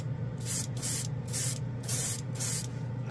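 An airbrush sprays chrome ink drawn from a marker in a steady series of about five hissing bursts separated by brief pauses, close and fairly loud over a low background hum.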